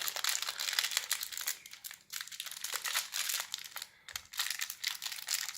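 Plastic packaging around a Marvel pin is crinkled and picked at up close, with continuous crackling rustles and brief pauses as the stubborn wrapper is worked open.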